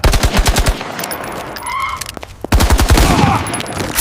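Bursts of rapid automatic gunfire from an animated action movie shootout, loud close rattling volleys that open and close the moment with a short lull of ringing and tones in between.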